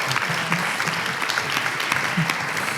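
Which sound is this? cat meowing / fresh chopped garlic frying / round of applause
round of applause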